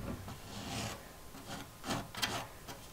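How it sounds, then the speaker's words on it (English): Antiquing wax is scraped up for closet doors inside a converted school bus. A few soft, uneven rasping strokes come from close by at low volume, with no voices. "here's what this wax looks like when you start scraping it up"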